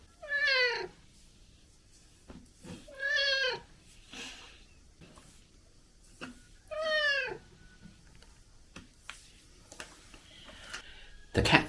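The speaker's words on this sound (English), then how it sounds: "And it's also a noisy cat." A noisy cat, rescued while starving, gives three loud, drawn-out meows spaced a few seconds apart, followed by quieter scattered knocks and rustles near the end.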